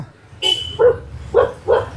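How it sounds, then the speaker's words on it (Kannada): A dog gives three short barks in quick succession after a brief high squeak, close and fairly loud over a low background hum. "ನಾನು ನೋಡಿ ಬೊಗಳ್ತಾವನೆ"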